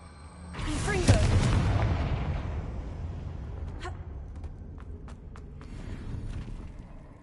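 A Confringo fire spell in the Hogwarts Legacy video game goes off as a loud booming blast with a long rumbling decay, followed by scattered footsteps and faint clatter.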